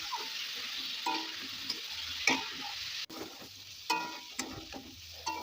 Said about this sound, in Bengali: ভালোভাবে নেড়েচেড়ে মিশিয়ে সব সবজিগুলো ভালোভাবে ভেজে নেব।